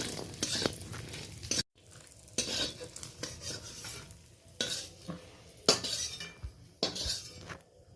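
Fried lentil dumplings (bori) lifted from hot oil in a pan, with repeated metal scrapes and clinks of a spatula against the pan over a faint sizzle, close and fairly loud in short bursts.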